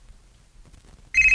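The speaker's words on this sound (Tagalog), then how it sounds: "Ang akong cellphone." A cellphone starts ringing abruptly after near silence, a loud, bright electronic tone that sounds close by and cuts in sharply near the end.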